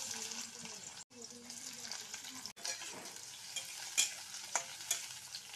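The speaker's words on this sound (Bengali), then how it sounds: "পেঁয়াজটা একটু লাল লাল করতে দিলাম" Onions frying in a pan alongside garlic and green chilli, a steady close sizzle with occasional stirring scrapes and brief breaks, a voice talking faintly beneath it.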